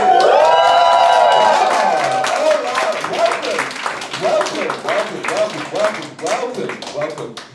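A live roast battle comedy show audience in Berlin erupts in loud, sustained cheering, whistling and applause, the roar peaking at first and then settling into dense clapping that continues throughout.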